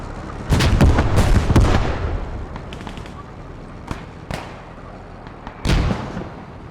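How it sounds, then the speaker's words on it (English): Heavy weapons fire at French tanks in a World War I style online multiplayer game, a few loud booming shots in a cluster, then scattered distant reports and one more sharp blast near the end. "we see something heavy shooting at the French tanks now"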